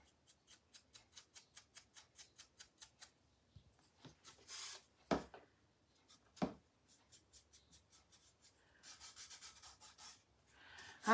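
Rubbing wax onto a painted mason jar gives a close, dry, repeated scrubbing in an even rhythm, then pauses, a few sharper knocks, and a denser burst of rubbing near the end.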